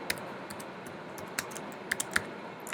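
Keystrokes on a computer keyboard while expense entries are typed in, a handful of sparse, light clicks spaced irregularly over a quiet room hiss.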